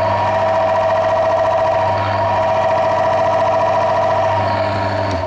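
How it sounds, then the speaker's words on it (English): A motor runs steadily under high oil pressure in a test rig treated with Wagner micro ceramic oil additive, giving a loud, continuous hum with constant harmonic drone and no pauses. "the motor isn't stopping"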